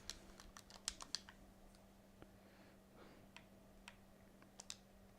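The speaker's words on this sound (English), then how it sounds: "Just pressing keys now." Computer keyboard keys pressed in scattered, irregular clicks, some in quick bursts, during a pterosaur park-building game session, close and fairly quiet over a steady low hum.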